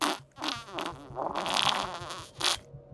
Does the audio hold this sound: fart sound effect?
yes